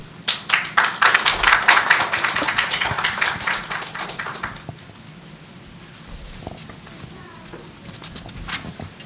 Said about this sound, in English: Let the applause continue, everyone.